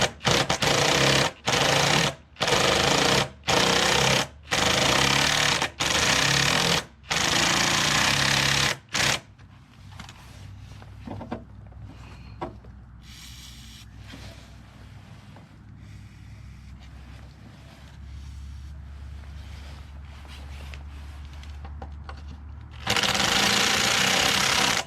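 A drill boring into the engine block of a Lawn-Boy 10632 lawnmower during an engine swap, with loud bursts of drilling separated by short pauses, then a longer continuous grinding run, close by with no talk.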